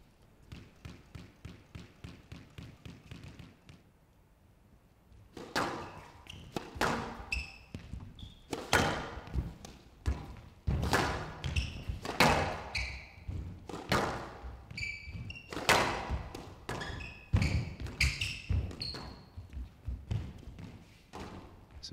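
Rapid squash ball hits in a professional tournament rally, sharp racket cracks and wall thuds in quick irregular succession, loud and close, with a short pause before play resumes.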